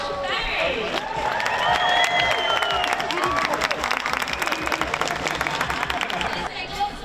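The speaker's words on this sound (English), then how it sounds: "ladies and gentlemen, a big round of applause to our captains, teammates, Judy Murray and Josh Berry" Big crowd applauding and cheering for the team captains at a tennis tournament event, dense sustained clapping with whoops and excited crowd noise throughout, loud and continuous.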